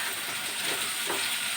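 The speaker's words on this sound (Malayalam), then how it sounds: "അപ്പോഴൊന്ന് നന്നായിട്ട് വഴന്ന് വരട്ടെ കേട്ടോ" Food sautés in a hot pan with a steady, close sizzle and soft stirring scrapes, an even frying hiss over a short stretch with no talk.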